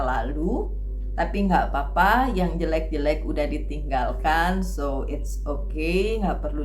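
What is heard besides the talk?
None of the usual background noises is heard.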